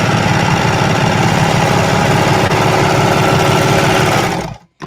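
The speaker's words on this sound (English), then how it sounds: "And I have me a nice wide 3-thread overlock." A serger sews a wide 3-thread overlock stitch, running at high speed as a loud, continuous buzzing whir that stops abruptly near the end.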